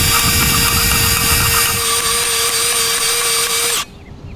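Wittek EZ 3.0 powered golf hole cutter boring a cup hole in a green, a loud steady high-pitched motor whine for almost four seconds that cuts off abruptly.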